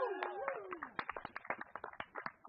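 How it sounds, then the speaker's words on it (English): Quiet, scattered clapping from a small audience at a charity fundraising finale livestream, uneven claps spread over a couple of seconds, with a voice trailing off at the start. "Let's have some applause,"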